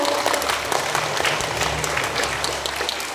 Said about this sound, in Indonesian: Kita beri tepuk tangan sekali lagi yang mulia.